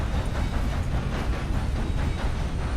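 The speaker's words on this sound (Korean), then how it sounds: "열차가 온다면 알려줘야 할 거 아니야" Train passing in Red Dead Redemption 2, a steady loud roar of rolling wheels with faint rhythmic clatter and hiss, close by and continuous with no talk.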